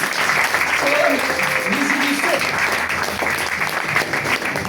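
An audience claps for the jury at a slam poetry night in a Toulouse poetry cellar, dense sustained applause filling the room throughout, with a few voices faintly audible under the clapping.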